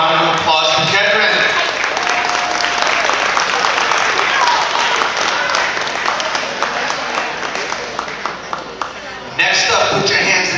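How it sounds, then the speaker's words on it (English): Wedding guests clap after a toast for Nick and Kaitlin, a loud, full burst of applause that runs on, fading slightly toward the end, with voices and clinking over it before a sudden louder rise. "All right, wonderful round of applause for Kedrin."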